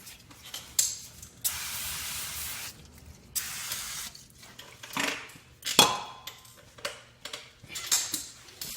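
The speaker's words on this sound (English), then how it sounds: "Just going to kind of clean the backing plate here off a little bit with some" An aerosol can of brake cleaner sprays onto the rear brake backing plate of a 2008 Chevrolet Cobalt in two sustained hissing bursts, followed by short spritzes among light metallic clinks of parts and tools close by.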